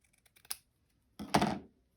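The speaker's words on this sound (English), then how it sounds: "And so I'm just going to cut that." Scissors cut through lace with a few light clicks and a sharp snip, then after a short pause a longer, crisp cutting stroke close by, with no talking.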